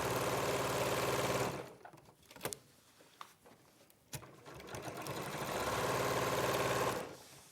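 Sewing machine running a straight stitch for about a second and a half, stopping, then stitching again steadily for about two and a half seconds, with quiet handling sounds in the pause.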